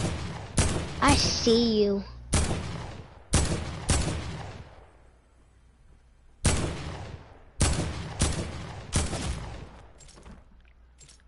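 Bursts of video game gunfire crack out in several loud volleys with short pauses between them, some rapid like automatic fire, while a voice speaks briefly early on.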